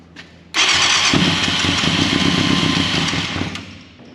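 A 1989 Yamaha FZR600 motorcycle engine catches after a brief quiet moment and roars into a loud, steady, close-up run for about three seconds before easing off.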